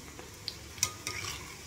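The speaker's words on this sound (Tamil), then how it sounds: "கடலெண்ணெயில் நான் பொரிக்கிறேன்." Banana flower pakoda frying in hot groundnut oil, with a faint, close sizzle and a couple of small sharp clinks from a utensil in the pan.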